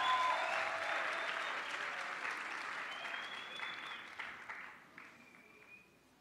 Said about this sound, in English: Can you give them just a round of applause?